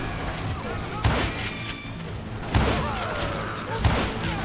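Three sharp gunshots from the Western shooter Call of Juarez: Gunslinger ring out at intervals of about a second and a half, with game sound effects and faint background tones between them.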